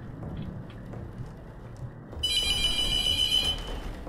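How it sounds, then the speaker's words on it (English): A telephone rings in the horror video game The Mortuary Assistant, a shrill electronic ring that starts abruptly and holds for over a second over a steady low rumble of ambience. "I hate the sound of that phone."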